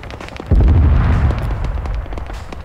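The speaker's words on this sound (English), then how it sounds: "so many explosions." Explosions in a military video game battle: a loud, deep blast strikes about half a second in, followed by rumbling debris and scattered gunfire pops as the boom slowly fades.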